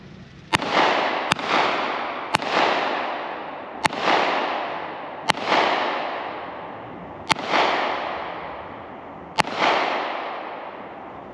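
Seven sharp 9mm pistol shots ring out one at a time at uneven intervals, each cracking loudly then trailing off in a long echoing decay, fired outdoors on a hundred-acre rural property.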